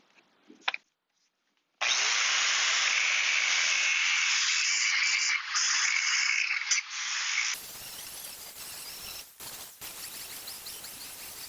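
Angle grinder with a grinding disc radiusing the edges of a cheap 66 lb steel anvil, a loud continuous abrasive whine running for several seconds, then a harsher, noisier grinding texture with brief dips.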